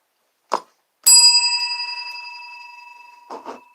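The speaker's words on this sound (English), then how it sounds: "Hitting the bell." A small bell is struck once, giving a bright metallic ting that rings out and slowly decays, with a couple of faint handling knocks before and after it.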